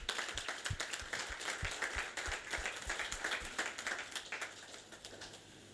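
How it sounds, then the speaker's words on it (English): Audience at a speed networking event gives a round of applause, moderately faint, with scattered hand claps that thin out and fade toward the end. "let's give him again a round of applause."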